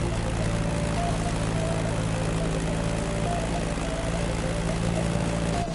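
A Staggerwing propeller biplane flies in The Crew Motorfest, its engine a steady, loud, continuous drone with an even buzzing hum that holds unchanged throughout.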